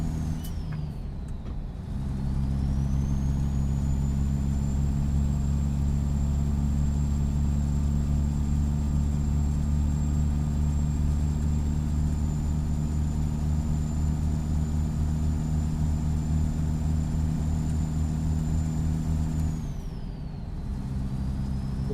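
A heavy truck fitted with a Zeemods engine mod in American Truck Simulator, driving between Washington and Wyoming, runs at a steady, loud, low drone with a thin high whine on top, easing off briefly near the start and the end.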